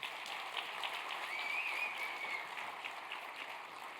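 Audience applause at a patient-focused rare disease conference: a continuous, fairly soft wash of many hands clapping from a crowd a little way off, sustained evenly throughout with no talking.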